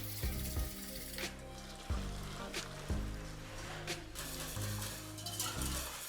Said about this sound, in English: I stir and add boiling water.